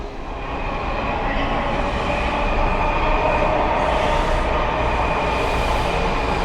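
An old 2000/3000 series Washington DC Metro six-car train pulls into a station with a steady, loud rumble and rising high whine, growing nearer over several seconds with no talk.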